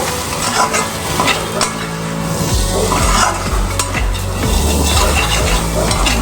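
Chickpea curry with sugar being stirred in a hot pan: steady close sizzling and frying with repeated scraping strokes of a spoon against the metal, continuous and fairly loud throughout.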